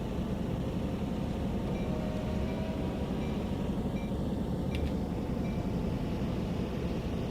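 Freight train passing in Train Sim World 2 on the Oakville Subdivision, a steady continuous rumble of wheels and rolling wagons at constant loudness, with a faint high squeal near the middle.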